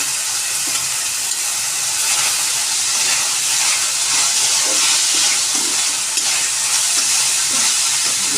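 Chopped onions frying in a hot pan for chicken momo filling, a loud, continuous sizzle and hiss with faint stirring scrapes, with no talk over it.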